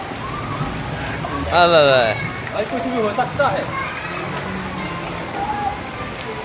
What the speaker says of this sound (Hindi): ये देखो भाई वो दिल्ली की बारिश